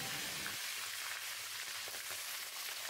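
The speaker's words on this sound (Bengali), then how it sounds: "এবার মাছের মাথাগুলো ভালো করে ভেজে নেব" Catla fish heads fry in hot mustard oil, giving off a steady, dense sizzle with fine crackling spatter that holds loud and even throughout, with no voices over it.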